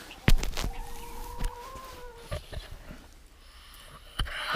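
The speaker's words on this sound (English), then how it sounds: "But the guineas, they're just chattering away all day." Guinea fowl chatter in harsh, repeated clucking calls on a snowy winter homestead, scattered bursts near and far against quiet outdoor background.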